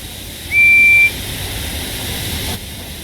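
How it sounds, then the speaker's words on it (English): A train guard's whistle gives one short, shrill, steady blast lasting about half a second, loud and close over a faint background hum. "Just then, the guard's whistle blew and the two engines set off"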